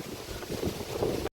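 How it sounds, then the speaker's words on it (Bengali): Strong wind buffeting the microphone outdoors, a loud, gusty low roar that cuts out briefly just before the end. "কি হাওয়া দেখো"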